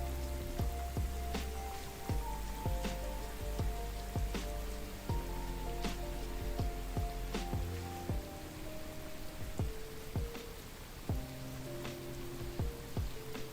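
Steady soft rain patters on a surface throughout, mixed under gentle lofi music with sustained tones and soft beats, fairly loud and continuous.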